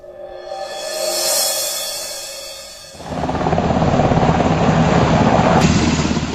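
A military helicopter carrying bodies of FARC guerrillas to a base in Colombia roars loudly, its engine whine giving way to a dense, close rotor rumble that swells and holds steady without any talk.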